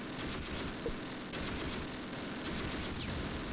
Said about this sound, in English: MG42 shooting at me